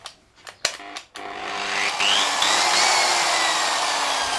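Rupes polisher with G3 coarse compound buffing the paint of an MZ TS250/1 Supa 5 motorcycle: a few light knocks, then a steady, close whirring drone that holds for several seconds.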